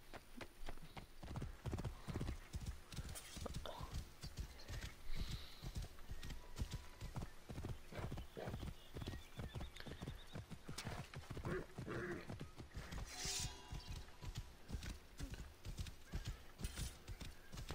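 Steady horse hooves clip-clop throughout while riding through a town in the video game Assassin's Creed Origins, with an occasional neigh and game ambience in the background.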